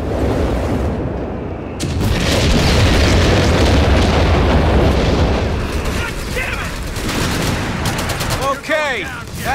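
Heavy explosions rip through German bunkers in Company of Heroes 3, a loud, dense barrage of booms and gunfire that rumbles on for several seconds, with voices breaking in near the end.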